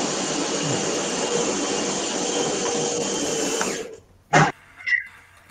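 A coffee maker runs with a steady mechanical whir and hiss for several seconds, then cuts off, leaving a brief knock and a short throat-clearing sound in a quieter room.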